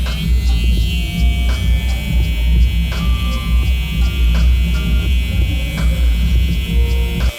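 A Babyliss electric hair trimmer buzzes continuously and loud, close up, as it lines up a haircut, its steady hum broken by faint clicks and slight changes as the blade touches hair.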